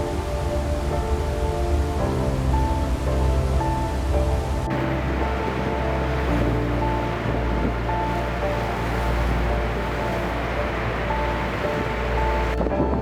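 Water roars at Niagara Falls in winter, a dense, steady rushing wash that continues unbroken and fairly loud, with a low droning hum underneath and no one talking.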